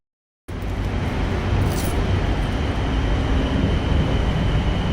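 A subway train in Thailand rumbles in after a moment of silence, a steady loud broadband roar of rolling wheels and motors that holds for several seconds with no voices.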